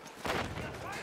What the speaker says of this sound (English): Oh, with the shotgun, dude, with the shotgun.